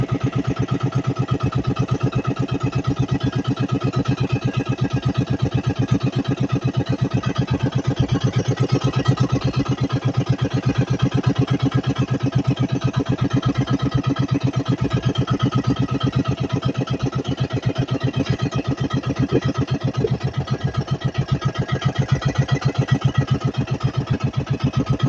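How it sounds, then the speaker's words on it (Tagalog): A small fishing boat's engine runs at a steady idle on a windy sea during crab fishing, its loud, even rhythmic chugging continuing unbroken with no voices. "nagpa-andar na tayo ng makina"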